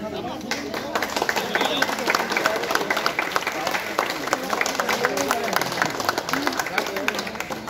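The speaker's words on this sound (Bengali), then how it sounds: "হাততালি একটা করে।" A small group clapping hands together outdoors among people on an outing, a dense, continuous patter of claps mixed with chatter and background crowd noise.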